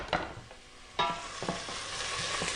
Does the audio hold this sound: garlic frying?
yes